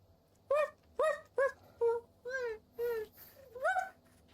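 Puppy whimpers from the Thimbleweed Park video game come in a string of about eight short, rising whines, fairly close and fairly faint, spaced at uneven intervals against a quiet background.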